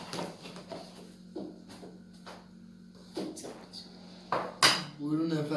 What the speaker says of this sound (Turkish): Önce bunu böyle karıştıralım.